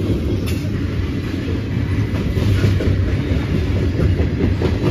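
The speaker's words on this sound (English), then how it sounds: "here comes the mid-train DPUs" A long Norfolk Southern freight train with mid-train DPU locomotives rolls past close by, a continuous heavy rumble with rattling wheels and clanking cars, loud and steady throughout.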